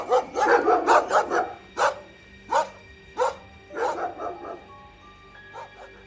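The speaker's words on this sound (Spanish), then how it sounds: "Podía oírse a sí mismo el furioso ladrido de los perros en una granja" Several dogs bark furiously at a distant farm, a fast volley of barks at first, then slower single barks and a few yips, moderately loud and with no talk over them.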